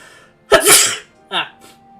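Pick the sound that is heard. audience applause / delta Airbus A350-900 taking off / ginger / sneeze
sneeze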